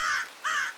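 A cartoon crow in an animated children's story gives two loud, harsh caws in quick succession, each a short rasping call separated by a brief gap, with no talking over them.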